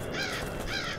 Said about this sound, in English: Sorry about the birds, guys.